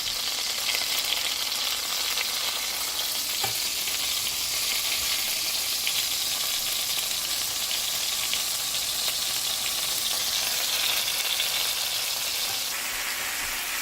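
Stuffed baby eggplants fry in hot oil in a skillet with a steady, dense sizzle that stays loud and even throughout, with no voices.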